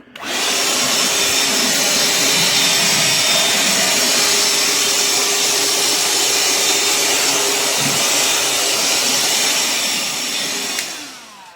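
A Ridgid wet/dry shop vacuum, model R860902B, runs steadily with a loud, continuous whirring roar, holding level before winding down at the very end.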